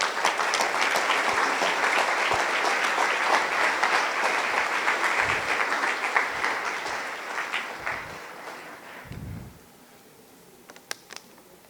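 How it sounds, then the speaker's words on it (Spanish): A church congregation claps together in sustained, dense applause that fades out near the end, leaving a few scattered claps. "denle un aplauso a nuestro Rey"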